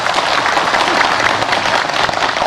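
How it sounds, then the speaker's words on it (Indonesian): A studio audience at an Islamic religious talk show applauds steadily, a dense, loud wash of many hands clapping that holds evenly from start to finish without pause. "boleh tepuk tangan dulu."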